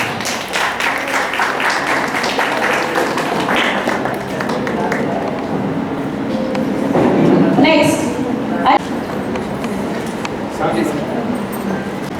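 A crowd at a school felicitation ceremony for students applauds with a steady, dense patter throughout, under continuous talk and general hall noise.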